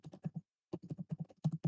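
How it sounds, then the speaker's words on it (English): Typing on a computer keyboard: quick, close, fairly quiet clusters of key clicks, a short burst, a pause, then a longer run of taps. "then type in login"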